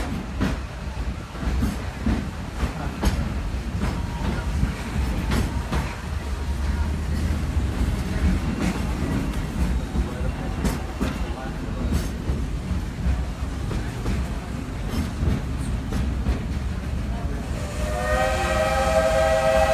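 A steam train around Magic Kingdom rumbles steadily along with a rhythmic clatter of wheels on rails, and a whistle sounds near the end.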